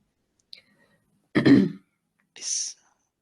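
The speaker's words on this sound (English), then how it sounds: "I didn't realise I was unmuted and I was clearing my throat." A short, rough throat clearing close to the mic, followed by a brief breathy hiss, with quiet pauses around it.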